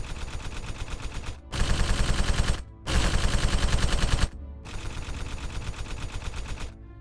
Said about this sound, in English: Their crew took their cue from Denzel and also opened fire on the stationary droids